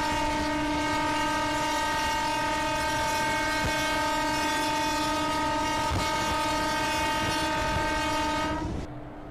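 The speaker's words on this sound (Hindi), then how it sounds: "चलो एक बार हॉर्न बजा देते हैं सामने से।" An EMU local train horn blows in the Open Rails simulator on the Sealdah–Dankuni route, one long, loud, sustained harmonic blast that cuts off sharply near the end.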